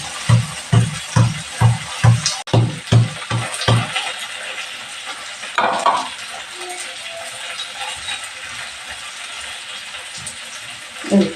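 Garlic is crushed with a pestle in a quick run of about eight sharp, rhythmic thuds up close, then the pounding stops and the room goes mostly quiet.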